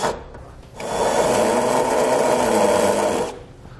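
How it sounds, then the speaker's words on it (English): A power tool enlarges a hole in the steel frame of a 2019 Subaru Crosstrek during a trailer hitch install, running as a loud, steady, close whirring grind for about two and a half seconds before cutting off. "You'll then need to enlarge the hole in the frame."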